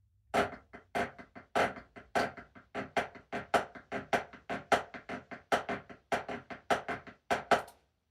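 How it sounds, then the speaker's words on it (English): A steady, even stream of buzzed snare drum strokes on every downbeat, about two per second, with accents that shift from stroke to stroke. "buzzing on every downbeat, but again, the accent moves"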